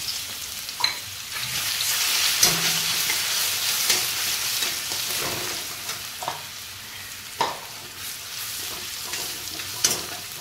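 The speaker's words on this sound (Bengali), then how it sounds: "এরপর আমি তেলের মধ্যে দুটো শুকনো লঙ্কা দিয়ে দিলাম, দিয়ে আমি রসুন বাটাটা দিয়ে দিলাম" Garlic paste frying in oil with two dried red chillies, a soft continuous sizzle punctuated by sharp clicks and scrapes of a spoon against the pan.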